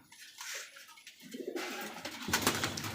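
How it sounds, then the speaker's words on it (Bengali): Pigeons coo at a pigeon farm holding a large collection of birds, with a few soft, nearby coos over light rustling and shuffling in the loft. "দেখছেন কত কবুতর মার্শাল্লাহ দেখার মতো কবুতর"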